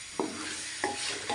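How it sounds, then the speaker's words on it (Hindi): Chicken frying in masala for a qorma, a continuous hiss of sizzling oil with three brief soft knocks of a spoon stirring the pan. "अभी हम हमारे चिकन को भूनेंगे बहुत अच्छे से।"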